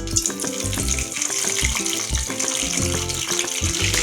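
Green chillies fry in a pan of oil for a Telugu-style sirraku chutney, giving a steady close crackling sizzle with sharp spatters throughout and no talking.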